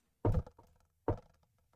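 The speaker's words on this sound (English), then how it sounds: "You hear a knock on the door." Two heavy, dull knocks on a door, spaced almost a second apart, close and fairly loud with quiet between them.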